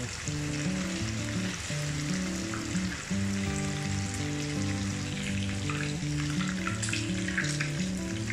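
Fish pieces for a fish karahi fry golden in hot oil, giving a steady, close sizzle that continues throughout under a continuous tonal musical backing.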